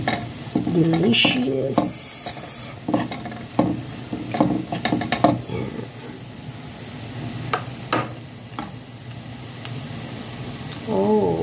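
Onion leaves stirred into leftover rice frying with shrimp and zucchini, close spatula scrapes and clatter over a steady sizzle, with a brief spoken word partway through.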